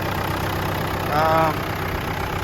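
A Jeep Compass engine idles steadily after starting, a constant low hum close by, with a voice briefly rising over it partway through.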